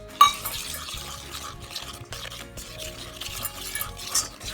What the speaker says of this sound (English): add in a cup of this bread flour, and you can just mix it around